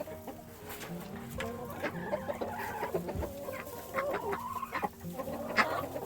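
Hens in nesting boxes on an autumn homestead cluck and murmur nearby, with a steady run of soft, overlapping clucks and short calls throughout.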